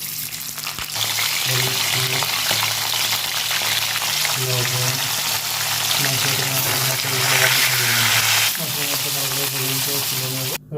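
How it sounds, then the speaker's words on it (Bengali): Fish heads frying in hot oil in a kadai on a gas stove, a steady broadband sizzle with a continuous hum and tonal background sound running through, loud and close throughout. "তেলটা গরম হয়ে গেছে, মাছের মাথা দিয়ে দেবো"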